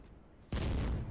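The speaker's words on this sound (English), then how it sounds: "Tank's shooting at you guys." A tank fires a shot in the game Heroes & Generals. A sudden loud boom breaks a quiet background and then rolls out into a sustained, rumbling blast.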